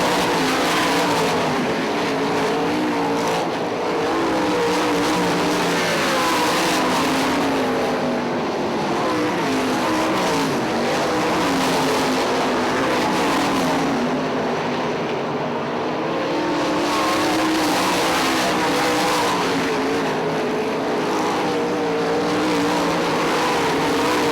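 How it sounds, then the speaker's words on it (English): Loud 410 sprint cars race around the dirt oval at Ionia Raceway Park, a dense, continuous engine roar of several cars with rising and falling pitch as they circle the track. "Ken Mackey moving in on slower traffic now as he heads down toward turn 1."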